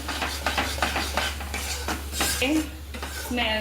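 Sukhadi mixture is stirred and roasted in a pan over a medium gas flame. A spoon scrapes and clinks steadily against the metal pan, close and repetitive, over a low hum and a faint voice.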